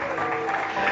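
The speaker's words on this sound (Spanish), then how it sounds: "le damos un fuerte aplauso" Brief burst of congregational applause during a church worship service, a dense, steady patter of many hands held close throughout.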